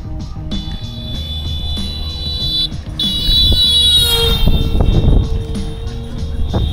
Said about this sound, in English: Even in the villages, they got to beep the bloody horns.